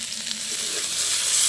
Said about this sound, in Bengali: ভালো করে একটু মশলার সাথে তরকারিগুলো ভেজে নেব।